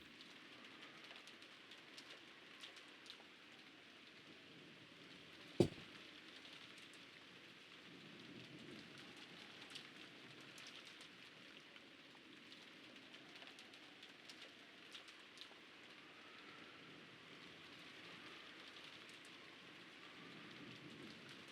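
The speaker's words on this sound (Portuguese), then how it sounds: "E acabou desaparecendo sob o som da chuva." Soft, steady rain falls throughout a scene in the Umineko video game, a faint continuous patter with one sharp click early on.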